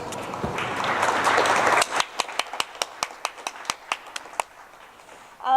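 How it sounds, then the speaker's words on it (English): An audience at a new member induction ceremony applauds, a dense wash of clapping for about two seconds that thins into scattered, distinct individual claps tapering off, ending with a brief louder sound. "So I want you to give yourselves a round of applause."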